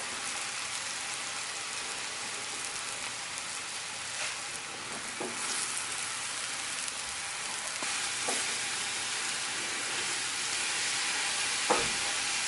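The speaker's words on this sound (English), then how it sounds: "So the mushrooms are cooking away." Mushrooms with black pepper frying in a pan, a continuous dense sizzle close by with faint scattered pops and an occasional soft clink, no voices.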